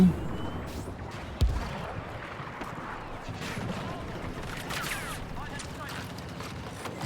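Blaster fire from Star Wars Battlefront II crackles in repeated bursts over a busy battle soundscape, with one sharper shot near the start and voices talking over it.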